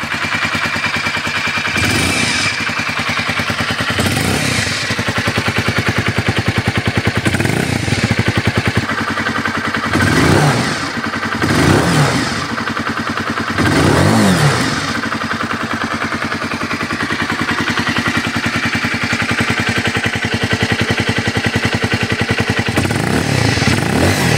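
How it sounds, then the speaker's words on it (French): Loud first-generation Honda CBR 125 R motorcycle engine idling steadily, punctuated by a series of sharp throttle blips and revs at irregular intervals, close up and alone. "On va donner quelques petits coups de gaz. J'adore le bruit."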